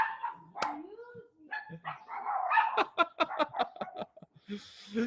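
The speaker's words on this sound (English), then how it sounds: "neighbor dogs." Dogs bark repeatedly in a rapid series of sharp yaps, moderately distant, with a few whimpers and yips mixed in.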